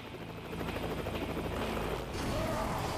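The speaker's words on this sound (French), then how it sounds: "c'était juste un hélicoptère de secours" Rescue helicopter in the video game Lollipop Chainsaw, a steady loud rotor drone running throughout over game music and effects, with a slight shift partway through.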